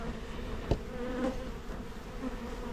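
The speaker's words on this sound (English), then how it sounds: "I do believe Rachel has gotten her first indoctrination to honeybee cutouts" Honeybees buzz steadily and close during a cutout of a colony from a house, a dense continuous drone with a few individual bees passing nearby.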